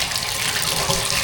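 Hot water runs from a tap in a vacant apartment unit during an inspection, a close, steady hiss and splash that holds constant and fills the whole moment.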